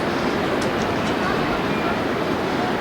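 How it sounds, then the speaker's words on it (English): A steady, dense rumble of a train rolling by, loud and constant throughout with faint high squeals briefly rising above the roar. "Here comes a train."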